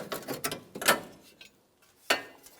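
A socket ratchet loosening a nut on a 2005-2015 Toyota Tacoma, with a few quick clicking bursts and a pause before one last sharp click, close and alone.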